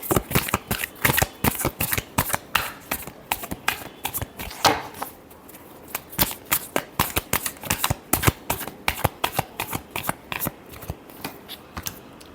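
Tarot cards shuffled for a Leo reading: rapid, continuous papery riffles and flicks in a brisk, uneven rhythm, close-miked and fairly loud, without speech.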